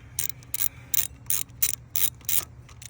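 A ratchet wrench loosens a bolt on a 2006 Volvo S60 T5 engine, giving about seven short bursts of pawl clicking in a steady back-and-forth rhythm, close and fairly quiet with no talk.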